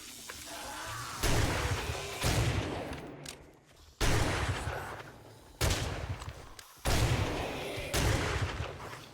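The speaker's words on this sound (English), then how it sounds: "Use the shotgun." Shotgun blasts in the zombie survival game 7 Days To Die, six loud booming shots in irregular succession, each with a sharp onset and a decaying tail, with no talking.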